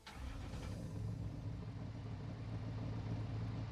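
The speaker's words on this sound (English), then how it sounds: "Right, so we'll start our engine." A vehicle engine starting in a gold mining simulator game, a V8-like motor that turns over and settles into a steady low rumbling idle, loud and continuous with no talking.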